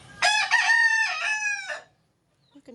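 A rooster crows once, close and loud, a long harmonic cock-a-doodle-doo, followed by faint clucks in the quiet after.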